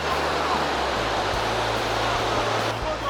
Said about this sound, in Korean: 여기는 그냥 계곡 물살이 엄청 센데요